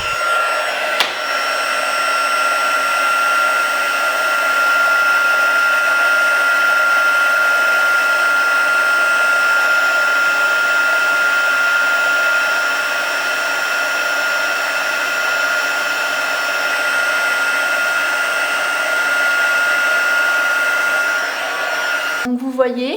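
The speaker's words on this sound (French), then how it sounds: "Et je vais venir embosser maintenant à l'aide de mon pistolet chauffant" A heat gun blows continuously while heat embossing a greeting card, a steady loud whirring hiss with a high whine that runs unbroken before switching off near the end.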